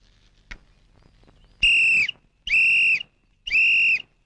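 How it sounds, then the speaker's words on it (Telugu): A person whistles three loud, steady, high-pitched blasts of about half a second each, evenly spaced and clear against a quiet background. "ఏంట్రా విజిల్ కొడుతున్నావు"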